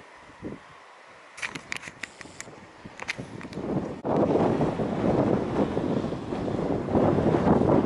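Blustery coastal wind on Llanddwyn Island, near the lighthouse and sandy causeway, buffets the microphone with scattered knocks at first, then swells into a loud, continuous roaring gust for the second half.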